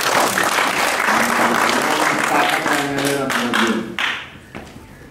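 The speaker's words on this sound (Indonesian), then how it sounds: "Mohon tepuk tangan saya," Audience applause at a gathering in Kendung, Ngawi, loud and dense at first with voices mixed in, then thinning into scattered claps before fading out near the end.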